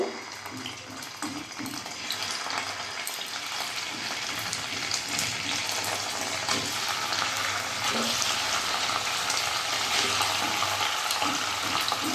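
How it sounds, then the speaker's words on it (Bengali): Paneer pieces shallow frying one by one in hot oil for a vegetarian shahi paneer, giving a steady, continuous sizzle with faint watery crackle and occasional soft clinks, close by and without speech. "এবার আমি এক এক করে পনিরগুলো হালকা শ্যালো ফ্রাই করে নেব।"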